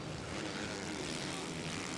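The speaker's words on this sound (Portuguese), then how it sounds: "Aí vai passando o Adam com a moto número 1" A motocross motorcycle at an MX1 race in Paty do Alferes, Brazil, passes on the track with a steady, loud engine drone that fills the whole moment with no break.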